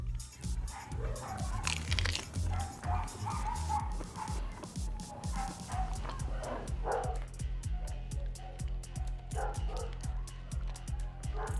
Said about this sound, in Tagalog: Pasensyahan nyo na yung aso ko